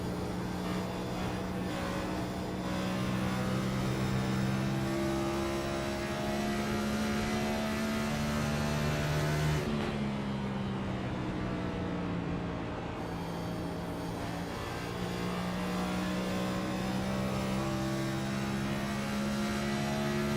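Steady, droning race car engine heard from the on-board camera during a lap of a stadium racing league event. It holds a sustained tonal hum for the whole stretch, with one brief dip in the middle, and no voices.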